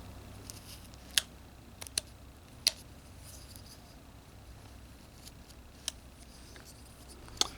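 Knife whittling a small human figure from a one-inch block of wood: quiet, sparse crisp clicks and scrapes of separate cuts, a handful spaced irregularly over a soft background.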